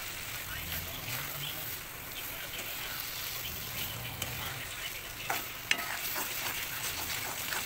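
Papaya laddu syrup, cooked down until dry, being stirred in a pan with cardamom powder added, a steady scraping and soft sizzle running throughout with a few sharper clicks of the spoon near the end.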